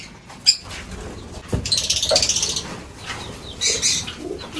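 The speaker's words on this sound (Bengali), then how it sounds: "পায়রাগুলো বাচ্চাগুলোকে বাইরে বার করবো, এদেরকে উড়াবো" Several bursts of wing flapping as young pigeons are let out and take off nearby, loud rustling flutters coming in quick waves, with faint cooing underneath.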